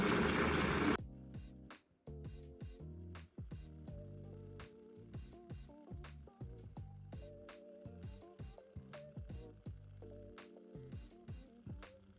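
A sewing machine stitches out a quilt, opening with a loud burst of noise and then settling into a clipped, rhythmic series of close mechanical taps and whirs.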